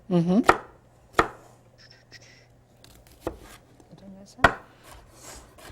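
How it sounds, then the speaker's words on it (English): A knife mincing a shallot on a cutting board, with a few sharp, separate chops spaced over several seconds and someone speaking between them in a kitchen. "First thing I'm going to do is I'm going to mince up a shallot here."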